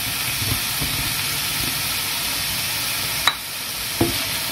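Asparagus and carrot fry together in a pan for a vegan quinoa and tofu dish. A steady, close sizzling hiss runs throughout, broken by a couple of sharp utensil clacks near the end.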